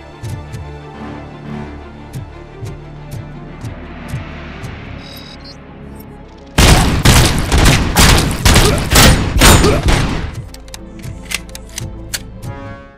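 Heavy automatic gunfire in the PS5 game RoboCop Rogue City, loud and dense, hammering for about four seconds mid-clip. Quieter scattered shots and game sounds come before and after the burst.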